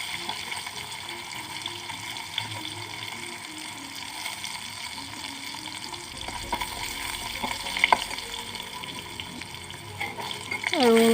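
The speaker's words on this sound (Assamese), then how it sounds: "এতিয়া মই এইকেইটা নমাই ল'ম আৰু বাকী যিখিনি আছে সেইখিনিও ভাজি ল'ম" Chicken pieces for a homemade pizza topping sizzle steadily in a frying pan, a soft continuous crackle with occasional clinks and scrapes of utensils toward the end.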